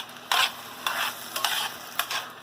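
Fresh tomatoes being stirred into a hot pan for chicken cacciatore: four short bursts of sizzling and utensil scraping over a quiet background, close up with no voices.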